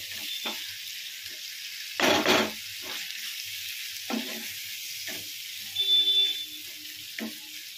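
Koi fish curry with yogurt sizzling in hot oil, a steady frying hiss broken by several louder stirring bursts as the pan is worked, with no talking.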